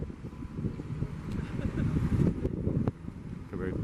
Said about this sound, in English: There's a nice breeze blowing through.